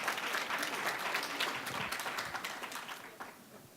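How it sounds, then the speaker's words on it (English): An audience at a medical debate on coronary bypass surgery versus angioplasty breaks into applause, a thick burst of many hands that starts full and gradually thins and fades out. "Applaud if you want heart surgery"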